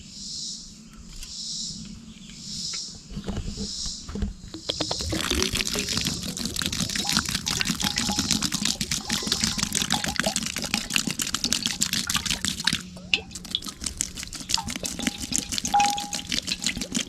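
Water pours steadily into a fire pit to put out embers, a continuous splashing hiss that starts after a few quiet seconds with faint birdsong, then briefly pauses and resumes.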